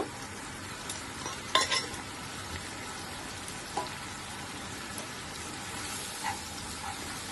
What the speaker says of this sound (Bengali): এবার মশলাটাকে খুব ভালোভাবে কষিয়ে নিব